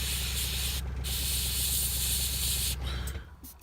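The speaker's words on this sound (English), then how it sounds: "this is obviously airbrushing that's much more advanced than you would normally do" Airbrush spraying paint onto an Ogryn miniature bust, a steady close hiss of compressed air and paint mist running continuously before cutting off near the end, followed by a brief quieter tail.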